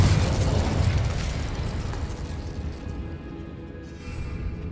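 A Confringo spell from Hogwarts Legacy bursts into a loud, deep explosion that rolls and fades over a few seconds, heard alone without talk.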